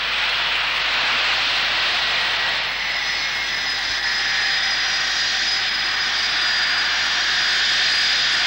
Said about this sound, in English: Today, jet aircraft arrive in New Zealand regularly from places that ships never came from.